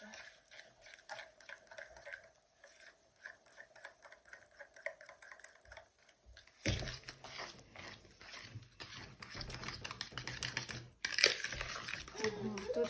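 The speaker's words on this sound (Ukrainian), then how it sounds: "Перемішуємо все до однорідності." A spoon stirs banana muffin batter with vanilla in a bowl, soft scraping and tapping in an uneven rhythm, close and fairly quiet, with clinks and rustling toward the end.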